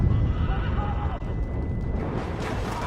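A horse in the Red Dead Redemption video game gives a clear, fairly close whinny over a busy game soundscape of rumbling and scuffling.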